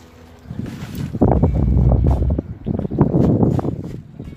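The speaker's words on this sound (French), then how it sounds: "Un beau vent." Gusty wind blowing outdoors on a sunny day, a low, rumbling roar that buffets the microphone in uneven surges and swells loudest through the middle before easing off.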